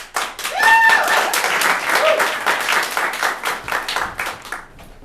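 A theater audience claps along to welcome performers onto the stage of a comedy show, loud and steady, with a few whoops and brief voices rising over the rhythmic clapping.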